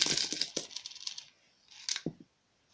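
Coins rattle and clink inside a Toy Story Hamm plastic piggy bank, loud jingling shakes in two bursts separated by a brief lull, with no voices.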